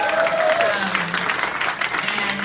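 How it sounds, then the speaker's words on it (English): A crowd at a public event in Asheville applauds the mayor, a brief burst of dense clapping at moderate loudness with a voice briefly audible over it. "so please give her a round of applause."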